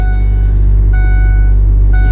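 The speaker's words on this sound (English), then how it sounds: "Your van could end up having a blower that sounds like this." A 2007 Ford E150 van's blower motor makes a loud, steady low-pitched drone that hums and vibrates without a break, with faint tonal whines riding on top, heard close.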